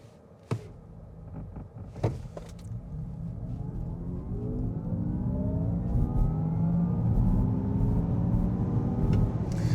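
A 2024 Honda Prologue Elite electric SUV launches from a brake-torque hold, opening with a few faint clicks and knocks before a rising electric-motor whine climbs steadily under road and tyre rumble as speed builds.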